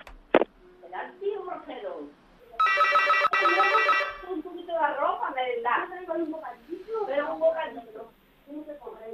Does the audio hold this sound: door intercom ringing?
yes